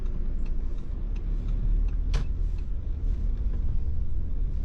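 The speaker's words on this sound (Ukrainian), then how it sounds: "Просто тролейбус поїхав в розворот" Steady low rumble of road traffic at an intersection where a long trolleybus swings through a U-turn, heard from inside a vehicle with a brief sharp click partway through.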